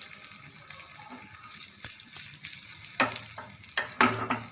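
Cashews and raisins fry in ghee with a soft, steady sizzle, broken by a few sharp clicks and scrapes of stirring in the pan.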